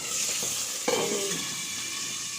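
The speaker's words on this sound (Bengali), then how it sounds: "ভাজি খুব ফাটছে" Vegetables fry hard in a hot pan, a steady loud sizzle with sharp crackling pops and a brief stirring scrape partway through, no voices.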